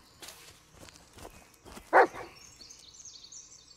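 Dog barking in the Blair Witch video game: a single short, fairly loud bark midway, heard among quiet footsteps and rustling.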